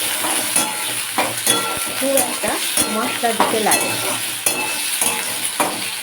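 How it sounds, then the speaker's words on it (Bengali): Potatoes, with beans and eggplant, frying in a pan for a kheshari greens curry, a steady sizzle with spoon scrapes and stirring knocks, close and clear, while someone speaks over it. "আলুটা আমি প্রথমে দিয়ে দিলাম তারপর শিম বেগুনও দিয়ে দেবো দিয়ে হালকা করে ভেজে নেবো"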